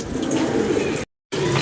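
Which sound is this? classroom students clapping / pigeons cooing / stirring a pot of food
pigeons cooing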